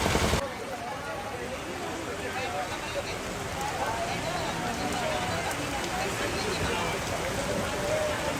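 Rain falls steadily during a storm in a rural farming setting, a dense, even patter that continues for the whole stretch under people talking.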